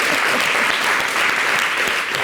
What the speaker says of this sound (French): Ah, applaudissez pour Glisse.